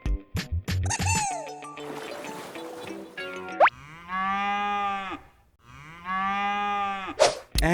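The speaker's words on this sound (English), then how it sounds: "It's the cow's sound." A cow moos twice, each a long, loud, deep, drawn-out call, after a short burst of quiz-style jingles and chimes.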